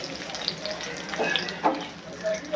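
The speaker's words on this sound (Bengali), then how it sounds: "এবার এই তেলের মধ্যে আমি একটা তেজপাতা দিচ্ছি, গোটা গরম মশলা দিচ্ছি, আর দিয়ে দেবো দুটো শুকনো লঙ্কা" Bay leaf, whole garam masala and dried red chillies sizzling in hot oil for a wedding-style rohu fish gravy, a steady close crackling hiss with sharper pops and brief stirring scrapes throughout.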